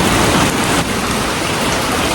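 Heavy rain falling outdoors: a loud, dense, continuous hiss with close splashing patter, no voices heard.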